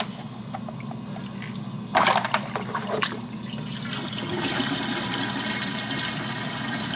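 Water drains through a Synergy Reef aquarium overflow box, a steady rushing trickle that starts with a sudden gurgling splash and then settles into a continuous close wash of flowing water.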